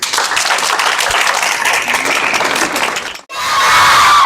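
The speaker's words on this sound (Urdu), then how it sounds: "آپ کی بھرپور تالیاں ہونی چاہیے جی" Audience at a school quiz competition on the Prophet's life breaks into dense applause with cheering and children's shouts, loud and sustained, cutting briefly before a burst of louder, hissier clapping and crowd noise.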